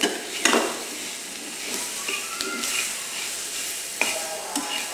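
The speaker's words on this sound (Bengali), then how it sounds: "আমি আলুটাকে ভালো মতো ভেজে নেব।" Boiled, mashed potato fries in a hot pan as a spatula scrapes and stirs it, a steady sizzle broken by several sharp scraping strokes, close and alone.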